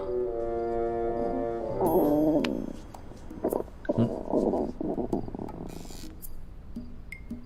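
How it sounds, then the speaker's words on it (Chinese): A hungry stomach growls loudly in a historical costume drama film, a drawn-out tonal rumble that swells and breaks off, followed by softer rustling and scattered knocks. "是我肚子叫。"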